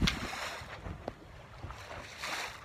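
Wind rushing past a sailboat under sail with its motor still running at about five and a half knots offshore, a steady blustery roar with water sloshing and occasional thumps, no one talking.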